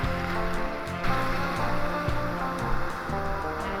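Ocean surf breaking while surfing in Costa Rica: a continuous broad wash of churning water with a few sharper splashes, loud and close, with no voices.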